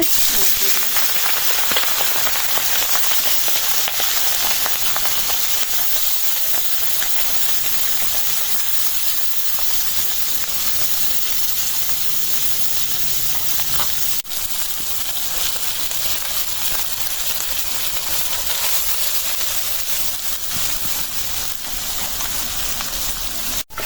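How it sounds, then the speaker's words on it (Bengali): Small tengra fish lightly frying in hot oil, making a dense, constant hiss and sizzle with fine crackles that stays even and close throughout. "মাছগুলি ভাজা হয়ে গেছে উঠাই দিয়ে হালকা ভাজা করছি"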